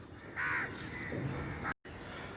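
A crow caws twice, short harsh calls about a second apart, heard over faint background noise.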